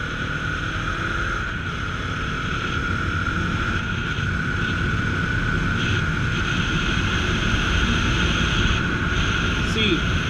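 A Bajaj Dominar 400 motorcycle ridden in sixth gear around 4500 RPM, a steady loud engine drone mixed with heavy wind rush.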